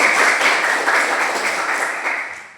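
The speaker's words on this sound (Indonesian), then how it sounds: "Ya, tepuk tangan buat." An audience in a classroom-style assessment session gives a short round of applause, a thick, close rush of clapping hands that slowly tapers off over a couple of seconds.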